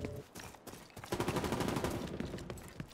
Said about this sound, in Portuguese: Eu tô ouvindo tiro, mas eles não estão tretando com ninguém